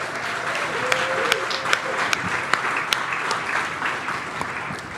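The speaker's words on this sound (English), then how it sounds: "Can we just give a round of applause for State 48 Foundation?" Audience applauding the State 48 Foundation at an entrepreneur speaker series event, a steady dense roar of many hands clapping with a few sharper individual claps standing out, continuous across the whole stretch.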